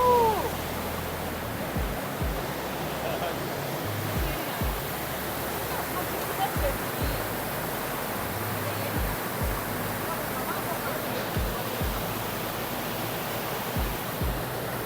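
Steady broadband rush of flowing water on Penang Hill, continuous and fairly close, with a low rumble underneath and no talk over it.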